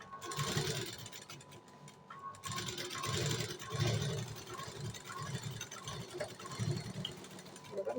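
A sewing machine runs steadily while stitching a blouse, its rapid mechanical ticking holding close and continuous, with brief pauses and a soft voice speaking faintly underneath.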